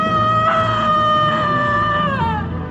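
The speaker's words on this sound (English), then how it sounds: "The woman's voice screamed." A woman's high, sustained scream from an audio story, with wavering pitch, loud and close throughout, sliding downward near the end.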